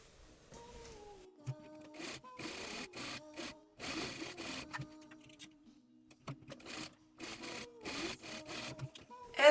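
A sewing machine stitches a corset seam in short, stop-start bursts of whirring and clatter, quiet and close, with pauses between runs.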